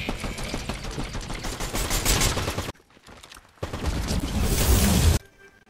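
Video game gunfire rattles in two sustained bursts of rapid automatic shots, loud and close, separated by a short quiet gap.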